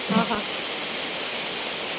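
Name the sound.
rain falling outside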